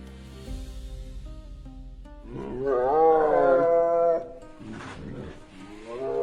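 Lionesses hunting on open plains let out a deep, loud roar that swells to a strong peak in the middle, then trails off into lower grunts, close and clear with no talk.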